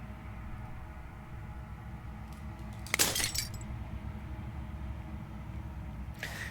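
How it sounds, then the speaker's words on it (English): Glass shatters once in the video game Slay the Princess, a short sharp crash over a low, steady ambient drone, fairly faint overall. "As the final fragment of glass shatters, you hear yourself with newfound clarity."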